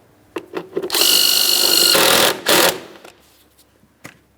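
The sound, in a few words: tightening the battery hold-down mounting bolt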